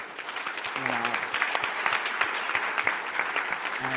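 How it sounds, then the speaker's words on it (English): A room audience gives a round of applause for Manal as she comes to the stage, moderate clapping building quickly and holding steady, with a brief voice near the start. "Maybe we could have a round of applause for Manal."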